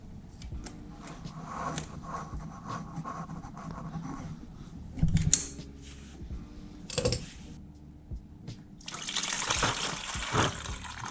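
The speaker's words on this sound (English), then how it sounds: "So we're gonna pull that and let that drain out too to get some extra fluid out." Coolant drains from a pulled radiator hose on a Yamaha XSR900 motorcycle, a faint continuous trickle and splash of liquid with scattered handling clicks and a louder rushing burst near the end.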